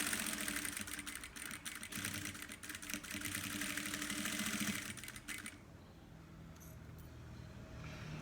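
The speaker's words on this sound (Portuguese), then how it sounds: "Agora eu vou e passo a costurinha também de segurança embaixo" Sewing machine stitching a safety seam along the bottom of a fabric car trash bag with an organizer pocket, a steady rapid mechanical whir that runs for about five seconds and then stops, leaving a quieter room.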